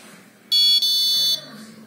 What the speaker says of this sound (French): on va entendre le Pixum qui va activer son buzzer pour nous dire qu'il n'a plus de signal